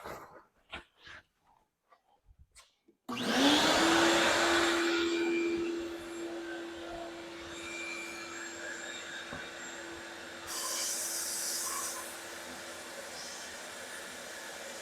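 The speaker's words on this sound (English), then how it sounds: "So let me turn on the vacuum." A shop vacuum powering a modified Princess Auto sandblaster loaded with glass beads starts after a few faint clicks, then runs as a loud, steady close-up drone with a high whine that swells briefly near the end.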